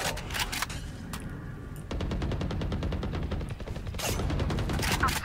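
Rapid automatic gunfire from the video game Valorant, sustained bursts of loud close shots in a first-person match with a brief lull before the firing resumes.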